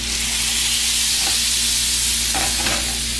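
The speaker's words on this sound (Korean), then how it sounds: "이때 버터를 넣어주시고요. 중약불로 줄여서 끓여주세요." Caramel with butter simmering in a pan over medium-low heat gives a loud, continuous close-up sizzle and bubbling hiss with faint stirring scrapes, and no talking.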